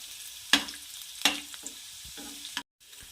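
Ginger pieces hit hot oil in a pan for veg manchurian, bringing two sharp bursts of sizzle followed by quieter crackling and a few scrapes, close, then a sudden cutoff.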